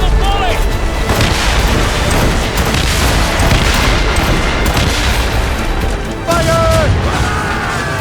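Naval cannon volley in Assassin's Creed Rogue: a loud, near-continuous barrage of heavy booms and crashing impacts rolls on for several seconds, with crew voices shouting over the battle.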